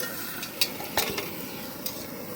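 Meat cooking in a pot at a riverside picnic, a soft sizzle with a few scraping clinks from stirring, quiet and close.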